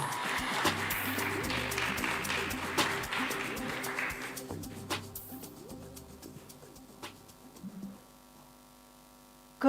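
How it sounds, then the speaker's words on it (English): Audience applause greets the arrival of an FSC director general at a forestry partnership conference in Africa, a dense clapping wash that is loud at first, then thins and fades over about eight seconds. "Let's give her a round of applause."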